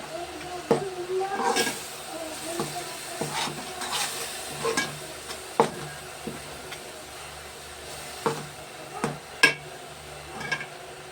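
Ginger paste fries in a pan with turmeric powder, a soft continuous sizzle broken by repeated scraping and clinking strokes of a spatula stirring it, close and steady.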